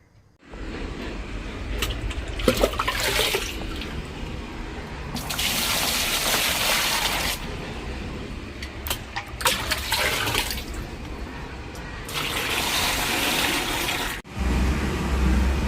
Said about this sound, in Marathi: आता चला आपण भाजी धुवून घेऊया.